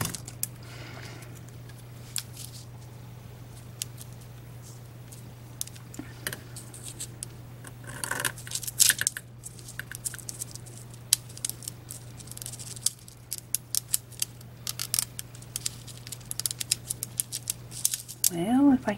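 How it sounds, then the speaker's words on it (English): Scissors cutting nail foil for nail art, heard as scattered small clicks and snips at close range, growing busier toward the end, under a steady low hum and occasional talking. "Well, if I can get my scissors to work correctly."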